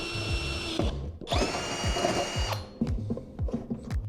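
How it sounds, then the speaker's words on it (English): Power drill boring into a metal electrical panel during a home wiring job, a steady high whine in two bursts of about a second each, with clicks and handling knocks between and after them. "It is always terrifying to drill into something like this for the first time."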